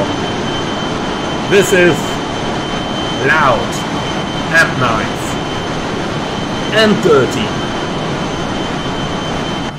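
A loud continuous roar of Fokker 28 jet engines heard from outside the aircraft in a flight simulator, with short bursts of speech breaking in over it several times.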